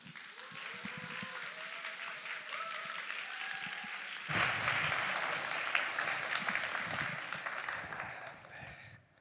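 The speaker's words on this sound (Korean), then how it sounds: "올라오실 때 뜨거운 박수로 환영하겠습니다" A church congregation applauds steadily and warmly, swelling louder halfway through before fading out; a faint melodic tone sounds beneath the early clapping.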